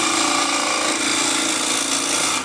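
Power tool cutting a tenon on a wooden bowl blank, a steady, loud grinding and rasping that runs unbroken close up, with no talking.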